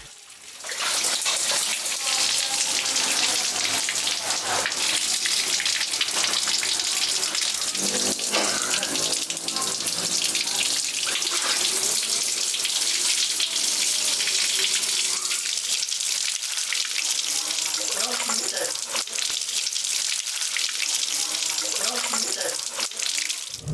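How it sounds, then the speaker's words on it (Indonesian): Running water rinses freshly dyed gambo cloth to wash out leftover pigment, a loud continuous splashing gush with irregular sloshing as the fabric moves through the stream; no talk is heard. "Pencucian dan pembilasan menggunakan air mengalir, agar sisa-sisa pigmen warna benar-benar bersih."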